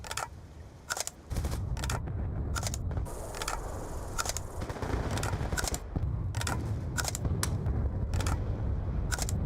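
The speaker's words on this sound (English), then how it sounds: "almost every single gun reuses the exact same magazine sound when reloading" Weapon handling in Call of Duty: Black Ops 2, with a series of sharp metallic clicks and clacks like magazines being swapped, spaced irregularly over a rumbling gunfire background.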